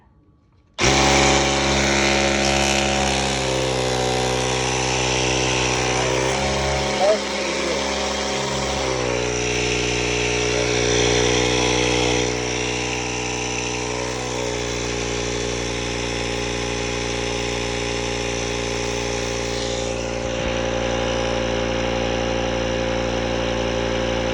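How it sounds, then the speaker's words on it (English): An air compressor from a Ryobi tool runs steadily to pressurize the fuel tank of a Coleman #4 gas iron, a loud, close, continuous motor drone with a few faint handling clicks over it. "I'm going to use my Ryobi to pressurize it up"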